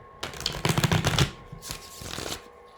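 A quick riffle of cards being shuffled, two brisk bursts of flapping card noise close to the microphone.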